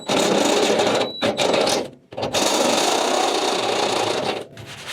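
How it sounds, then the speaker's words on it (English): A drill boring 3/8-inch holes through metal for a welded joint, giving a loud, close, continuous grinding whine that is broken by two short pauses. "Now that I've drilled the holes, I'm going to be left with a little bit of a burr on the inside."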